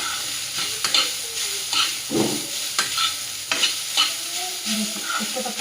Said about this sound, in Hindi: इसको तब तक चलाएंगे जब तक कि अच्छे से भूनना है।